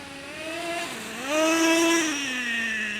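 Traxxas Revo 3.3 nitro RC truck engine screaming at high revs, pitch dipping briefly then climbing again as it shifts into second gear, a loud continuous buzzing whine with no voices.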